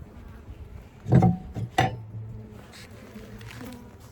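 Honeybees buzzing around an opened 24-frame Layens hive during an inspection, a steady low hum close by, broken by a couple of short clinks from handling the hive.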